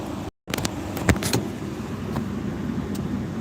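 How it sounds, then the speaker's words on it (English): A mobility scooter passes by outdoors: a steady motor whir with scattered clicks and rattles, moderately close and even in loudness, with no voices. "We got a mobility scooter guy here."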